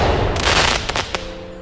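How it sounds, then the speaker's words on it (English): Fourth of July fireworks go off in a dense burst of crackling and popping, followed by a few sharp separate bangs and a fading ring, loud and close. "For this occasion, I've prepared my own special fireworks."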